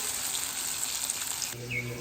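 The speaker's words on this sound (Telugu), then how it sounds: "ఈ దోశ పిండి ఉంది కదండి దీంట్లో డిప్ చేసి వేయటమేనమాట ఆయిల్ బాగా వేడైంది ఇలా ఒక్కొక్కటి వేసుకోవడం" Pieces dipped in dosa batter hit hot oil with a steady, hissing sizzle that fills the short moment before cutting off abruptly.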